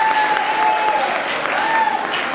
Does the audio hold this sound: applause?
yes